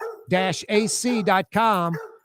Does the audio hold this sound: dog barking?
yes